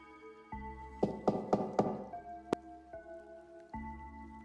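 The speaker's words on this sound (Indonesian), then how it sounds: "Malam itu, Raka mendengar suara ketukan." Knocking on a wooden door as a sound effect in a horror story: four quick raps in a row, then a single sharp knock, all set against a sustained eerie musical drone.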